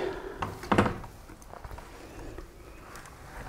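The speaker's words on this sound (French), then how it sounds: "Je vais fermer la porte." A single dull thud of a door closing, close by, followed by quiet room noise and faint shuffling.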